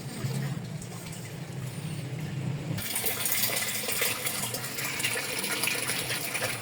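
Water gushes from a storage tank through an opened filter valve into a pump-fed supply line, starting as a low rumbling flow and then surging into a loud, steady rush partway through, with no talking.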